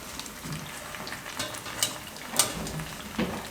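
Rice flour puris frying in hot oil until crisp give a soft, steady sizzle with occasional louder crackles and pops, close up and fairly quiet.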